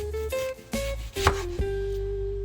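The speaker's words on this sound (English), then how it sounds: "I'm gonna start slicing my onions" Knife slicing through onions on a board, a few separate close cuts with short thuds and pauses, no voices.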